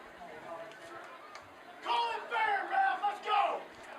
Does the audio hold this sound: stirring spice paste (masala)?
no